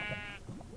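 A Minecraft sheep grazing beside a lava lake lets out a single short, nasal bleat, faint and brief, with a small trailing murmur after it.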